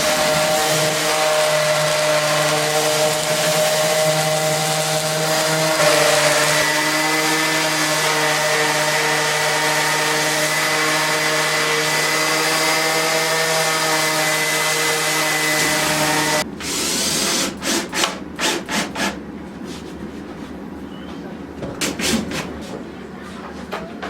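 A power sander works an Eastern red cedar toddler step in a workshop, a steady loud whine with a constant pitch that cuts off partway, followed by scattered knocks and handling noises.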